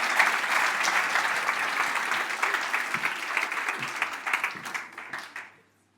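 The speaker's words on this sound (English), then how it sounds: "Some extra applause." Audience applause at a speech contest final, a dense sustained wash of many hands clapping that holds steady, then thins and fades out near the end.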